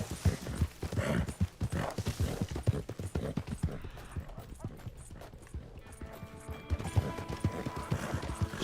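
Shire horse hooves clopping in Red Dead Online, a steady rapid run of close, fairly loud hoofbeats with some louder knocks, and a voice talks briefly alongside.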